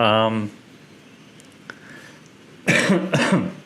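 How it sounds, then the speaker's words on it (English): Two or three harsh coughs close to the microphone near the end, after a moment of speech and a quiet pause. "Apologies for all the coughing."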